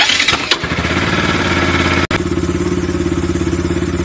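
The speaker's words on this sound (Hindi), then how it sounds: "अब देखिए बाइक को हम ऑन कर रहे हैं।" A Bajaj Pulsar RS 200 motorcycle engine cranks and catches, settling into a loud, steady idle with a rapid even rhythm after a brief dropout midway.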